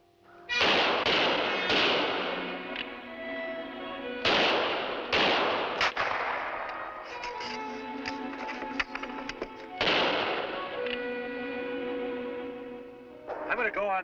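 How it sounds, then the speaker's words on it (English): Loud rifle shots crack out one at a time during a battle in an audio drama, each one ringing and echoing away before the next, with ambient battle noise in between. "Keep firing. Here, my rifle's loaded."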